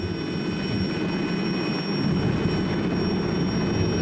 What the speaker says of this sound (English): It was a compound helicopter with a small wing to take the load off the rotor in forward flight.